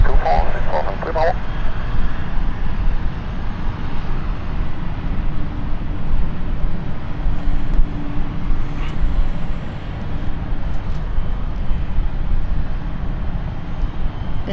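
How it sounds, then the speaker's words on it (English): Jet engine roar from an aircraft using reverse thrust to turn on a taxiway at London City Airport, a steady loud rumble throughout with a brief higher whine midway. "It's using the reverse thrust to turn."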